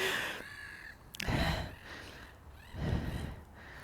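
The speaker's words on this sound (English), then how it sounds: "I don't know if you can hear these birds, but they're all going a bit crazy" Crows caw in a couple of rough, drawn-out calls with a pause between, moderately loud over quiet background.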